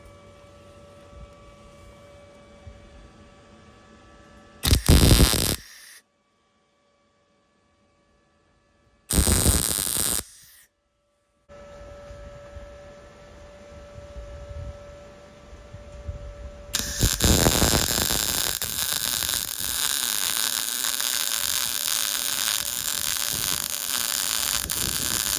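A beginner's welding machine tacking metal for farm welding: two short harsh buzzing bursts separated by silence, then a long steady crackling hiss that runs to the end, close and loud.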